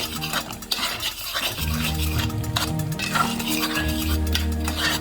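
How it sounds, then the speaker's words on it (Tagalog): A spoon stirs blackberry jam with ground nutmeg in a pot, steady close scraping and occasional light clinks against the metal, with a faint bubbling simmer underneath. "Then of course you have to stir it."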